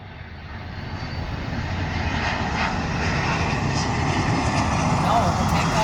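A UPS Boeing 767 comes in to land, its jet engines building into a loud, broad rumble that grows steadily closer, while people talk over the noise.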